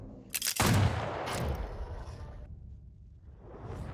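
The Whitley submachine gun in Call of Duty: Vanguard fires a sharp, loud burst through walls, followed by a rolling, echoing tail and a second, softer rush of noise near the end.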